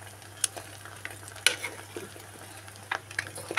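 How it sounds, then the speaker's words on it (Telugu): Eggs and chopped onions fry in a pan, a soft continuous sizzle with a few sharp clinks and scrapes of stirring scattered throughout, close and fairly quiet, no voices. "చూస్తున్నారు కదండి, ఇదైతే ఫ్రై అవుతుంది, వేగుతుంది అనమాట."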